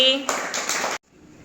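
A class of young children claps for a pupil after a counting lesson, a short burst of close, dense applause that cuts off abruptly after about a second, with a teacher's voice just before.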